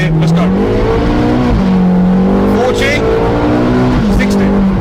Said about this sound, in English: I'm going to show you how quick this thing accelerates